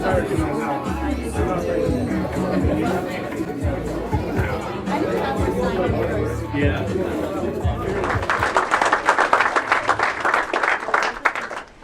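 An energized crowd at a campaign office opening in Markham-Stouffville chatters loudly, then breaks into dense sustained applause and cheering that fills the last few seconds.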